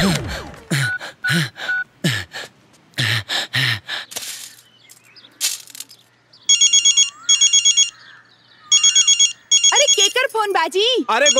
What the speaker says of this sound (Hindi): केकर फोन बाजी